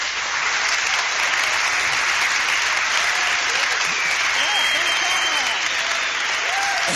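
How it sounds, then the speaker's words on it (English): Applause from U.S. robotics teams at an MIT–ESA video conference: a sustained, dense clapping of a sizable group that holds steady throughout, fairly loud and unbroken. "This is applause from the U.S. teams to you guys."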